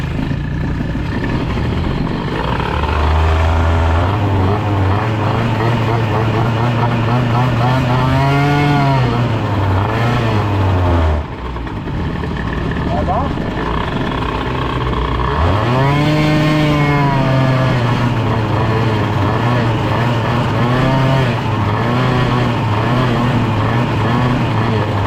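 An Airsal Nitro 50 two-stroke moped engine with a PHBG 20 carburetor, not yet warm, idles loudly then revs up and falls back twice in long rising and sinking sweeps, buzzing close by.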